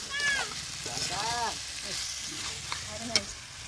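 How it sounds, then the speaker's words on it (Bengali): Chicken curry sizzles and is stirred in a pan as it is slowly fried down, a steady frying hiss with scraping, while a person talks over the cooking. "আস্তে আস্তে এবার এইরকমভাবে কষাকষি শুরু হয়ে যাবে।"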